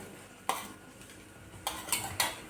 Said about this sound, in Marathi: तर हे छान फेटून घेतलेलं आहे कस्टर्ड पावडर आणि दूध पावडर